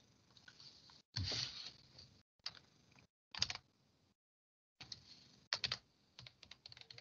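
Bursts of computer keyboard typing as a greeting is entered, quick clustered key clicks separated by short pauses, close and fairly quiet with no talking.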